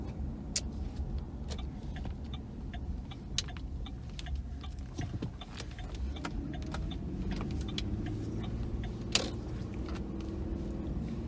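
A car drives through city traffic with a steady low rumble heard from inside the cabin. Scattered small clicks and taps sound over it, and the level stays even throughout.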